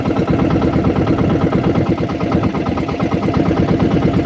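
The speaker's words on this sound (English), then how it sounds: "We only started one engine today, guys. We're just idling very slow, going very slowly." A single boat engine idling very slowly, a loud, steady low rumble with a regular throbbing pulse that continues without a break, close by.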